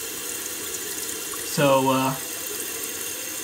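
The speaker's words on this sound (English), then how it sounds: "Still got a stream of water pouring in there." Water streams steadily into a toilet tank through a faulty fill valve, a constant hiss and trickle that keeps running, with someone speaking briefly over it.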